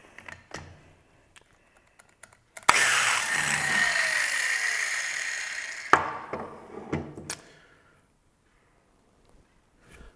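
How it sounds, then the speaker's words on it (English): A valve seat grinder runs on a 2005 Subaru Forester cylinder head's valve seats in a machine shop, a steady whirring grind lasting about three seconds, framed by sharp clicks and metallic taps. "We're gonna hit it with a grinder that interlocks with those splines, and hopefully we can just touch up each valve seat a little bit"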